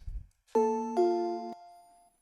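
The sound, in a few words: bell melody in a music beat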